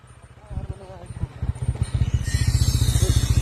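A motorbike on a rough off-road mountain track chugs with a steady, fast engine pulse that grows louder and denser as it climbs, with clattering over bumps and a voice speaking under the engine noise.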